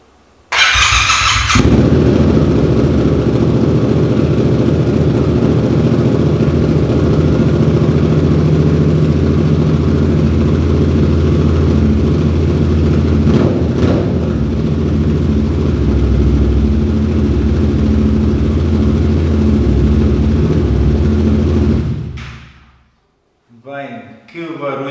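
A Yamaha MT-07 motorcycle engine with an aftermarket MIVV exhaust roars loud and deep, sustained at high revs close by for a long stretch, then drops away abruptly.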